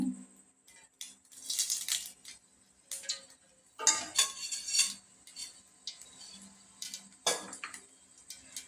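Cooked egg pieces being moved from a kadai into another bowl, with scattered metallic scrapes and clinks of a spoon against cookware, in irregular bursts close by.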